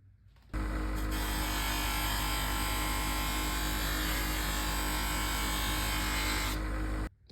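A buffing wheel spins against the inside of a woodworking gouge, a steady loud motor whine with a dense grinding hiss that starts abruptly, holds evenly for several seconds, then cuts off.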